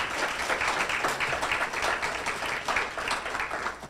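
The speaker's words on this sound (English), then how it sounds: "Please give yourself a round of applause, please." Parents in a banquet audience clap for themselves, a continuous, moderately loud patter of many hands with slight swells and no speech over it.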